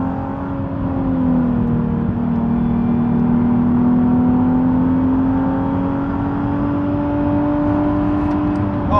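Nissan 370Z Nismo on Continental SportContact 6 tyres, driving on greasy roads: a loud, continuous in-cabin engine drone with slowly shifting pitch, steady and close, with no one speaking.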